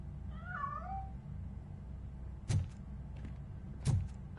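A cat meows in the video game RoboCop: Rogue City, a short mid-pitched meow near the start, followed by two sharp mechanical clunks like door or metal impacts over a low ambient hum.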